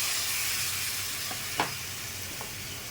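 Fried onion masala in a pan sizzles and steams after a splash of water, a steady moderate hiss with a few soft stirring taps.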